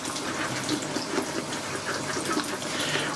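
Water poured into a bowl of Hendrix Classics shaving soap, a steady splashing trickle like a running tap, close and continuous for a few seconds with no talk.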